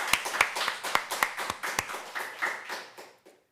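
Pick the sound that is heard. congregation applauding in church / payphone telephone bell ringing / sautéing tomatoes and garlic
congregation applauding in church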